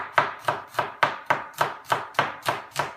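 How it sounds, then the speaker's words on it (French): Garlic cloves finely minced with a knife on a board: about ten crisp, evenly spaced chops at a steady brisk rhythm, close and clear, with no voices. "on va émincer très finement l'ail"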